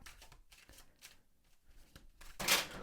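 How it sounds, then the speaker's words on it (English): A deck of tarot cards is shuffled by hand, close up, in repeated riffling bursts with short gaps between them. A louder, fuller riffle comes near the end. "So let's just start shuffling."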